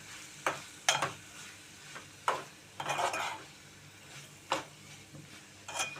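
Egg patties frying in a pan are stirred with a spoon, giving a soft continuous sizzle broken by six or seven sharp scraping clinks at irregular intervals, fairly close.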